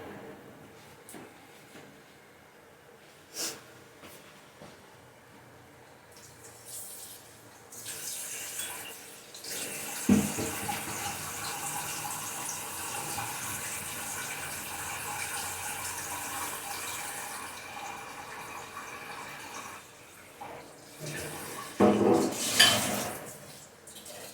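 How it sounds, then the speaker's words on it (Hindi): Water being poured into a clay pot of handi haleem, a quiet stretch and a few clinks giving way to a sustained splashing rush, then softer knocks and a brief louder pour near the end. "अब हम ढक्कन हटाएंगे और इसमें डाल देंगे पानी।"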